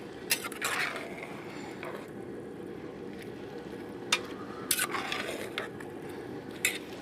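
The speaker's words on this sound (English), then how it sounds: "give the whole thing a really good stir" Baby eggplants cut into quarters being stirred into a lentil dish in a pot, with scraping clinks of a utensil against the pot and scattered knocks over a steady low simmering background.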